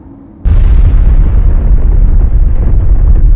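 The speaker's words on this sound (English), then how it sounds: "a deafening explosion occurred." A deafening explosion from the Trinity test, the first nuclear weapon detonation, in the New Mexico desert at dawn: a sudden massive blast followed by a sustained roaring rumble that slowly fades while staying loud.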